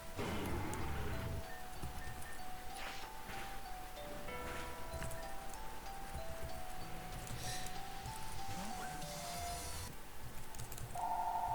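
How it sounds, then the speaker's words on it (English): Repeated electronic phone ring in a Pokemon game, a steady beeping tone near the end of the clip over constant game music, with no talking. "And the phone's ringing again."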